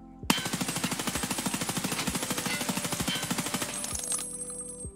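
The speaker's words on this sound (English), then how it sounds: "So we'll just go for shots on this target here for right now." A sustained automatic burst fired at a target in Escape from Tarkov, about four seconds of rapid, evenly spaced shots, loud and close, then cut off with a ringing tail and no talk.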